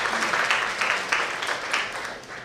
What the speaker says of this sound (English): Final round of applause, please.